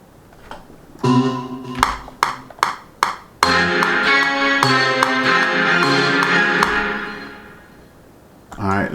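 A sampled piano patch in PreSonus Studio One strikes several separate chords, then holds a dense sustained cluster that slowly fades before one more hit at the end.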